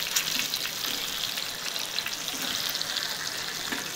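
Mackerel fillets fry in a pan with a dense, continuous sizzle and spatter, heard up close and loud, as the fish is turned over; no voices are heard.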